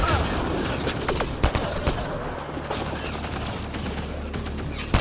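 Video game combat in a sci-fi setting, with rapid bursts of gunfire crackling in dense volleys over a constant rumbling background, fairly loud and continuous.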